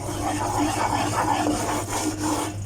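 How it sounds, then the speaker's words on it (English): A spoon stirs and scrapes a thick Mysore pak mixture in a pan over a low flame, giving a continuous close rubbing and scraping sound. "Just keep on stirring it. Try and flatten out all the lumps and bumps that we get in here."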